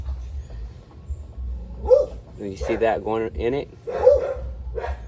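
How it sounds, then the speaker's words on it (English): A dog barks and yips several times nearby in a garage while someone works on a BMW F30 335i N55 alternator; someone talks over and between the short, loud barks. "Excuse my dog"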